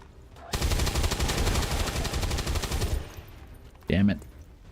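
A sustained burst of rapid automatic gunfire in XCOM 2, loud and close, rattles steadily for about two and a half seconds before cutting off. A short spoken exclamation follows the burst.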